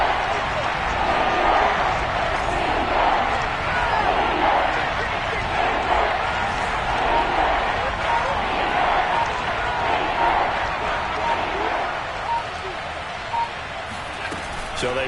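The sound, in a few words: stadium crowd cheering at Bills vs Dolphins football game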